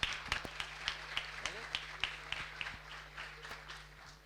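Sparse applause from a small audience at a startup demo day, scattered claps at a loose rhythm over a low hum, with some chatter, fading toward the end.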